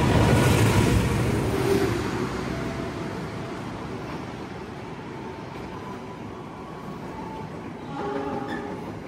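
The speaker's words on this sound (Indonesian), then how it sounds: "Ada yang lewat lagi, yaitu kereta Fajar Utama Yogyakarta." A Fajar Utama Yogyakarta train rolls past on the rails, a continuous rumbling roar that is loudest at the start and then gradually fades, with faint wheel squeals and clicks toward the end.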